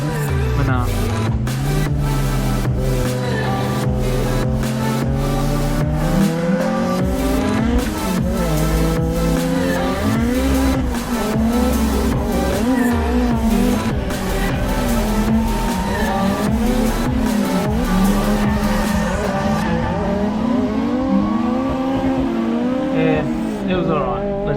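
Car drifting a lap of Ebisu in Assetto Corsa, engine revving loudly up and down with long tire squeals through the corners, continuous and close, with a voice talking over it.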